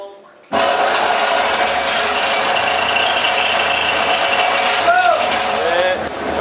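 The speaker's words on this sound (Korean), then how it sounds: "과부하 운전 하겠습니다 펌프 기동" Fire pump kicking on for an overload test, a loud steady broadband roar that starts abruptly after a brief quiet and runs continuously, with a short rising whine near the end.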